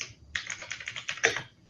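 Rapid keystrokes clatter on a computer keyboard in a quick, steady burst, close and clear, with no talking over them.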